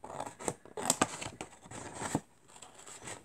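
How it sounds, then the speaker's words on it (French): Scissors snip through thick paper in a handful of short crisp cuts with a light crinkle, close and fairly quiet, no talking over them. "Donc, je la coupe au ciseau comme ça."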